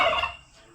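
Guinea fowl giving a loud, harsh call close by, a single raspy burst that fades within a second, with no talking.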